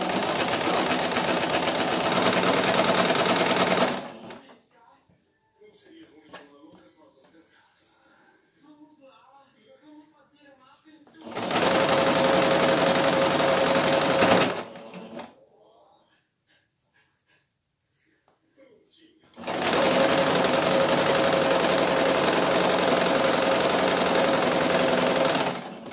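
Hemming a rag doll's shorts, a sewing machine runs in three loud, steady whirring bursts of a few seconds each. Quiet handling noises and faint breathing fill the gaps between them.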